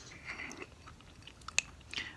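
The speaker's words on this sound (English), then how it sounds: "My black sesame seeds for crunch and color and contrast." Close, quiet chewing of beans and cheese topped with black sesame seeds, soft wet mastication with a few sharp crunchy bites standing out near the middle and end.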